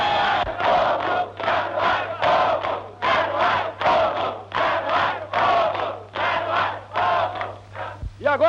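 A crowd at a 1950s town gathering erupts in rhythmic, repeated collective shouts, bursts of roughly half a second each at a steady pace, loud and massed like a chanted cheer.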